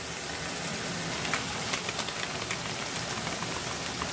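Tomato, salt and spices frying in a pan for a pabda fish curry with white sesame and mustard paste, a steady soft sizzle and hiss with faint crackles throughout, fairly quiet and even.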